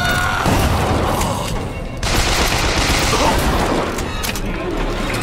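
Shotgun blasts and loud gunfire in the video game Bioshock Infinite fill the moment continuously, booming close and heavy with a brief dip midway, mixed with a voice speaking.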